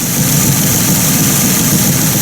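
A 1950 Buick Roadmaster engine runs at a steady idle, close by and continuous, with a low rumble and no voices over it.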